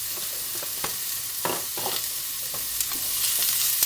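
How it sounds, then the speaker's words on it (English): Noodles and vegetables, including green beans, sizzling in a stir fry: a steady, close frying hiss with occasional stirring scrapes and pops, with no voices. "Now you can hear that all sizzling away nicely."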